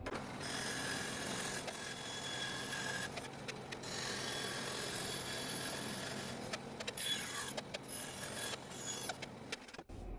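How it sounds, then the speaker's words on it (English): A very old Craftsman bandsaw cutting through wood, a steady continuous rasping whine with a few brief bursts and changes in pitch as the blade bites, loud and close throughout, no voices. "this here is a very, very old Craftsman bandsaw"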